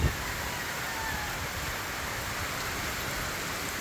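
Rain falling outdoors, a steady, even hiss of drops on surfaces that holds without a break, moderately loud, with no voices.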